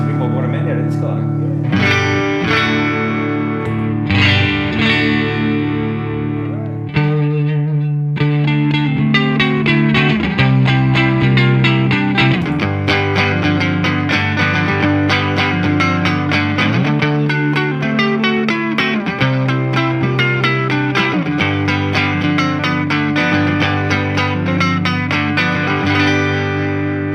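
Electric guitar played through a Fender Deluxe Reverb amp, comparing a Tonemaster and a 1967 vintage model, rings out in loud, sustained chords and melodic lines with reverb and some distortion, steady throughout with no talking.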